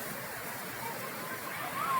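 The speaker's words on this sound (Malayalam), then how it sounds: "അതിമനോഹരമായിട്ട് ഈ ബെഞ്ചിലിരുന്ന് വെള്ളച്ചാട്ടം കാണാം" The Aruvikuzhy waterfall pours in a steady, soft broadband rush, heard from a little distance without change, with a faint tone near the end.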